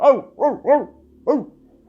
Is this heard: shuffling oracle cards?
no